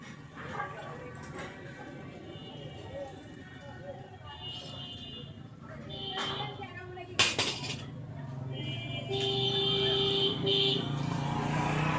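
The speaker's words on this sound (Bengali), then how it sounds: "আমার সামনে যে মোটরসাইকেল আছে তো তার কারণে সাউন্ডটা হচ্ছে" A motorcycle and steady road traffic passing close by on a street, a continuous rumble with rising engine noise, a sharp clatter midway and brief whining tones, while someone talks over it.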